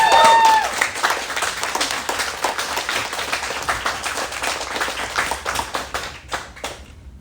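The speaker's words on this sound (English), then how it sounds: "keep that applause going for David, our friend David" Theater audience at a comedy show applauds loudly and steadily, a dense wash of many hands clapping that thins out and fades toward the end.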